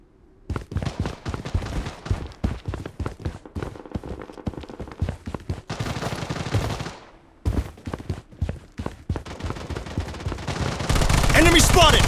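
Gunfire in the mobile shooter Project BloodStrike: rapid, loud automatic bursts in close succession with short gaps, building into a sustained dense barrage near the end.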